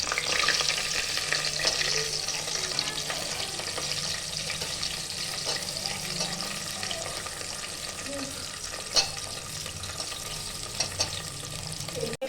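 Onions sizzle and fry steadily in hot oil for a Punjabi bottle gourd curry, a continuous close crackle with occasional stirring clinks and no talking.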